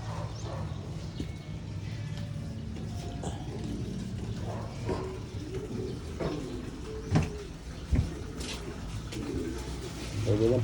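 Young pigeons coo softly at a multi-storey rooftop loft, low murmuring calls running steadily under light background rustle and a couple of sharper knocks.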